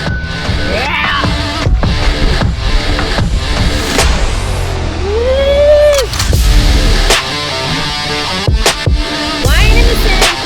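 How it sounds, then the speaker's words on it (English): A four-wheel drive car drives in the sand at Big Red near Birdsville in outback Queensland. The engine is loud and close, revving with a rising and falling whine and a deep rumble throughout. "he gets to drive in the sand"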